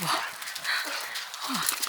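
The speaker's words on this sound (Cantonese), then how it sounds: "呢度有隻狗啊" A dog on a night street in a small town in western Iceland gives a few short, close yips and whimpers while someone talks nervously over it.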